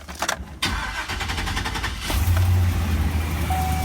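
A Chevrolet Silverado with a hesitation fault, recorded outdoors: a few clicks, then the engine cranks and catches, runs steadily and rises in a louder rev near the end, with no talk.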